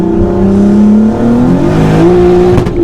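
A sleeper car's engine roars loud and close as it pulls hard through a second-gear roll-on, one sustained rising drone that climbs steadily in pitch with no talk over it.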